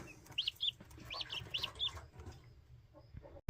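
Young keets, little fowl chicks, give a few high chirping calls in quick clusters at close range, then fall quiet against faint background noise.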